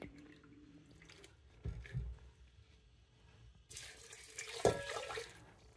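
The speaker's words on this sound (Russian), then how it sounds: "То есть две кружки воды я сюда вылью." Water poured from a mug into a multicooker for oatmeal, heard as a faint trickle and then a louder splashing gush in the last couple of seconds, after a short thump, with no voices.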